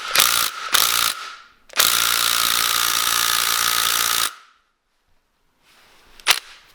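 Bolts being backed off with a ratchet and socket during parts prep, giving a few quick clicking bursts and then a long steady buzzing run of about three seconds before silence and a final sharp click.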